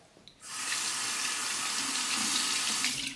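Water runs hard from a tap as a Merkur 20B safety razor is rinsed under it, a steady hiss and splash that starts abruptly and holds for about three seconds.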